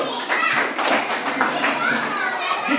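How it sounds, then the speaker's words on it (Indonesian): A classroom of children breaks into quick, dense group clapping, close and lively, with young voices chattering underneath. "Oke, tepuk tangan dulu."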